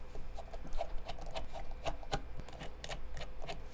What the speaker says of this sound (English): We remove the mount screws first.